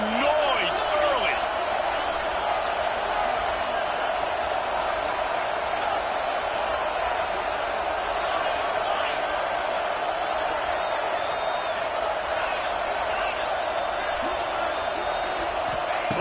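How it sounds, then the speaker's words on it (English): Steady roar of a large football stadium crowd, loud and continuous throughout with scattered cheers and whoops rising out of the din. "This crowd bringing the energy and noise early."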